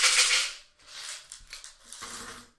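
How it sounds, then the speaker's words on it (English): Twenty coins rattling and clinking together in cupped hands, three loud bursts of metallic jangling separated by brief pauses, close and with no talk. "in my case 20 coins, and I'm going to shake these up."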